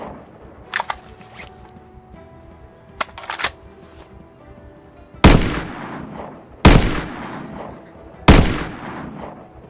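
Gunshots in the zombie survival game Project Zomboid, with a few faint clicks and handling noises followed by three loud, sharp shots spaced a second or so apart, each with a decaying tail. No one speaks.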